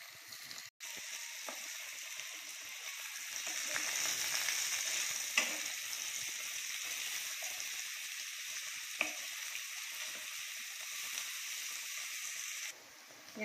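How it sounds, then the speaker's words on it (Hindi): Marinated paneer shallow-fries in oil in a kadai, giving a steady, moderately faint sizzle with occasional stirring clicks and no talking. "फिर हमने जो पनीर मैरिनेट करके रखे थे ना, उसको थोड़ा हम शैलो फ्राई कर लेते हैं।"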